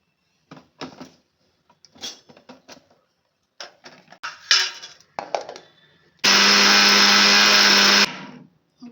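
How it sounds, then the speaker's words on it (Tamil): A blender grinds ginger and tomato chutney with salt in one loud, steady two-second whir, preceded by scattered clinks and knocks of handling the jar. "இப்போ அரைக்க போகிறோம்."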